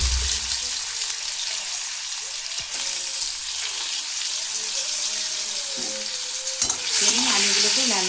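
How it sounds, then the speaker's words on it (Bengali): Potatoes fry in hot oil, the same oil just used for eggplant, with a steady, bright sizzle throughout, a brief stirring clatter, and a louder burst near the end. "একই তেলে আলুগুলো ভেজে নেব।"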